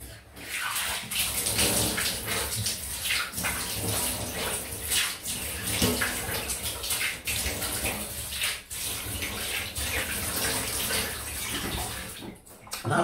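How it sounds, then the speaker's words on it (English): Cold tap water running for a rinse after a safety razor shave with Proraso cream, a continuous loud splashing gush into a basin with small clattering interruptions, no voices. "Cold water rinse."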